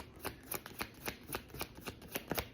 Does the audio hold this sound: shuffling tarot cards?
yes